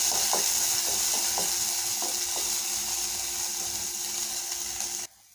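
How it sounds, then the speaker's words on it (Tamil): Onion, green chilli, coriander and curry leaves sizzle steadily in hot oil in a pan, with occasional stirring scrapes, close and continuous until it cuts off abruptly near the end. "அப்படியே மல்லி கருவேப்பிலை போட்டுடலாங்க. இதை நல்லா வதக்கி விடலாங்க."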